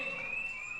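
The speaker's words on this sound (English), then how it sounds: "The alarm sounds in a ward in Ashworth Special Hospital" Alarm sounding on a ward at Ashworth Special Hospital: a steady, continuous high electronic tone held without a break, with no talk over it.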